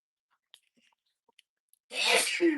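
After a few faint clicks and near silence, one loud, close sneeze bursts out, followed by a brief trailing breath.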